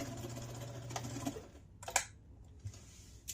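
A sewing machine stitches a self-binding casserole-size hot pad in short bursts, a quiet hum with needle chatter that pauses, followed by a sharp click or thread snip and faint handling sounds.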